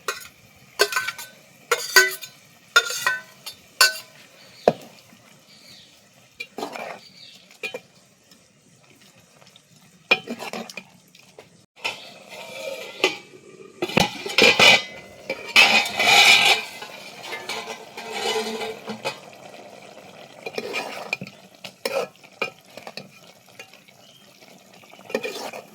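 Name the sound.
stirring cauliflower into boiling masala in pan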